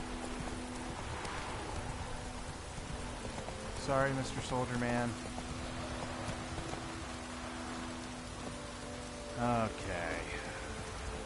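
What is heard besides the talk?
rain in video game The Witcher III Wild Hunt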